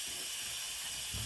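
An Instant Pot releasing pressure gives a steady, continuous steam hiss, close and even throughout, with a faint low bump near the end.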